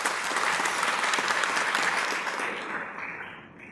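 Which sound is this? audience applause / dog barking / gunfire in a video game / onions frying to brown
audience applause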